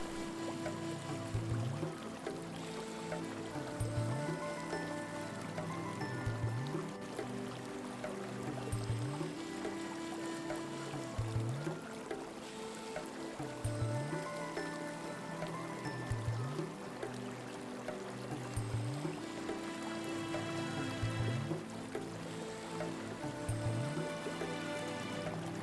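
Water from a small working waterfall in a bioactive charcoal-style mini paludarium splashes and trickles steadily and close by, a continuous gentle flow with faint recurring low pulses and no talk.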